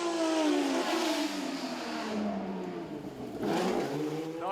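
A BMW M1 rally car at a Belgian rally in the Ardennes, its engine revving loud and close in rising and falling sweeps that carry through the whole stretch with no voices.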